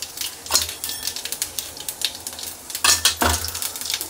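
Onions frying in a pan with a close, crackling sizzle, broken by repeated scraping and metal clinks from stirring, busy and fairly loud with no talking.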